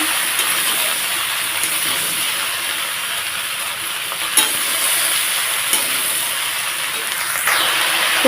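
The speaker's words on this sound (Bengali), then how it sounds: "তো এই তেলের মধ্যে এখন আমি কি করব এই লাউটাকে ছেড়ে দেবো" Bottle gourd fries in hot oil, a loud bright steady sizzle and hiss close up, with a few utensil knocks and stirring clatters breaking through.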